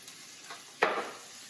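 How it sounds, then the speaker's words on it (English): Quiet background hiss, then a brief burst of sizzling around the middle as potatoes hit hot oil in a pan, fading into a soft crackle. "once they start sizzling a little bit here, nice and hot"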